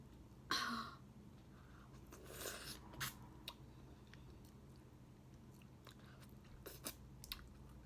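Close, quiet chewing and biting on fried turkey wings coated in fish sauce and chili, with a few crunchy bites and scattered mouth sounds and no talk.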